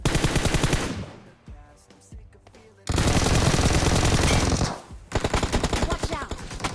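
Automatic gunfire in the battle royale game BGMI, with rapid bursts of close, loud shots in several strings separated by short pauses, and the final burst is slightly choppier.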